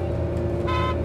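A tow truck's horn gives one short toot as a greeting, over a loud idling engine rumble.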